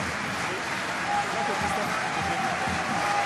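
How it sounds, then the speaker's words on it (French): Rugby crowd at Pré-Fleury in Nevers applauding substituted players during a Pro D2 match, a continuous wash of clapping under a commentator's voice. "Tous deux applaudis par le public du Pré-Fleury."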